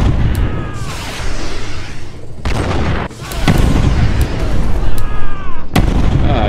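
Tank cannon fire in the VR shooter War Dust, loud booming blasts repeating every second or so, each with a long rumbling tail, amid ongoing battlefield gunfire.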